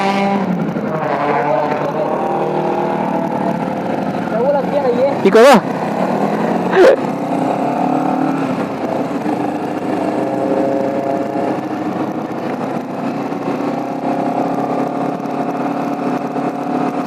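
A Honda CBR 250 motorcycle's engine drones steadily while it is ridden through city streets at night, a constant close hum with wind noise, and a rider talks over it.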